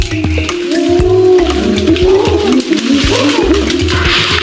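Loud, overlapping screeches and roaring calls from male primates in a dominance display rise and fall in a dense chorus, close and continuous, with harsh wavering tones throughout.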